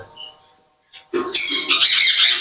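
Lovebirds, including albinos, squawking in breeding cages, a few faint chirps followed by a loud burst of harsh overlapping screeches close by.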